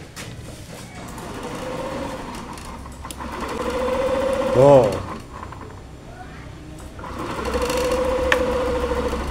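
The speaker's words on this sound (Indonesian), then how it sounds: "ketika di starter ini ada bunyi seperti suara putaran kipas ataupun seperti suara putaran dinamo" A Yamaha NMAX scooter's starter motor whirs and cranks in repeated bursts, rising and falling, with a brief spoken syllable partway through; the engine does not run.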